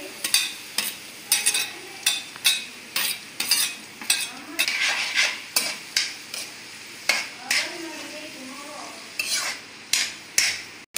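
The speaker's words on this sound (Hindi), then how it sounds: "देखिए फ्रेंड्स, इसको हल्का ब्राउन करेंगे प्याज को और हरी मिर्ची को" Onions and green chillies fry in hot oil with cumin, mustard seeds and asafoetida for an Indian-style pasta, with a soft sizzle under a steady rhythm of a spoon scraping and stirring against the pan, close up.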